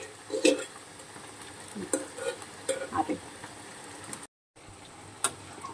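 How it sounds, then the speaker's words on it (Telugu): Drumstick (moringa) leaves being stirred into a tempering in a pan, heard as quiet, intermittent scrapes, clicks and light crackling at close range, with a brief dropout near the end. "ఇలా తాలింపులో మునగాకు వేసుకున్న తర్వాత కాసేపు కలబెట్టుకోవాలండి"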